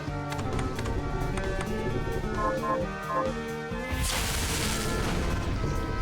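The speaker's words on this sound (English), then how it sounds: "Flame cannon, shoot fireball." Flame cannon fireball shot in the video game Bloodstained, a short burst that swells into a dense roaring whoosh partway through, layered over continuous tonal game music with no talking.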